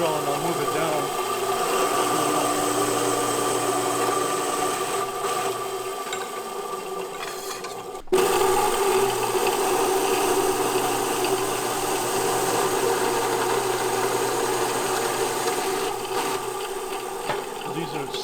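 A machine drills pop pin holes through a self-centering vise in a manufacturing shop, a steady mechanical whir and grind that drops briefly midway and then resumes at an even level.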